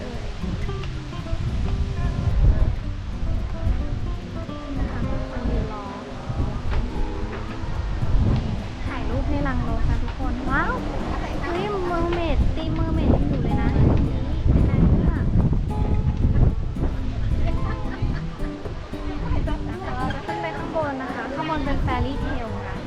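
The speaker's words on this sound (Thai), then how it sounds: "ลมแรงมากนะคะ ไม่รู้ว่าจะได้ยินไหม" Strong wind buffets the microphone at a beachside cafe in Pattaya, a loud, continuous roar with surf-like gusts running the whole time beneath a woman's speech.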